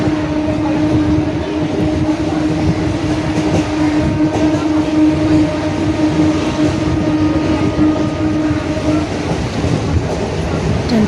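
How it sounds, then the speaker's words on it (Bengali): A passenger train pulls away from Sonarpur station toward Canning and runs on, a loud steady rumble and rattle of the carriages with a faint voice now and then. "ট্রেন ছেড়ে দিয়েছে"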